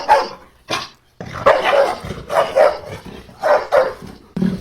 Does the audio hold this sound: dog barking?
yes